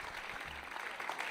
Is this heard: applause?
yes